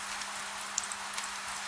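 Gentle rain falling on stone streets and balconies in an old city at night, a soft steady hiss with a few brief drips, a faint low hum beneath.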